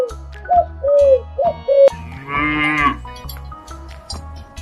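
A cow gives one long, loud moo in the middle, set over a cheerful rhythmic backing tune with short whistled notes before and light plucked notes after.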